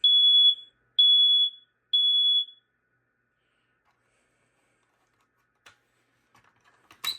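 Three evenly spaced shrill beeps from a BRK 4120B smoke alarm running its code 3 test pattern, followed by silence and then a few faint clicks and handling noises.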